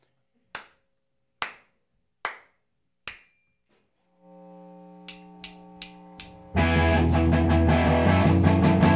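Four sharp single hand claps spaced evenly and close, followed by sustained tones, a few clicks and then full band music starting loudly.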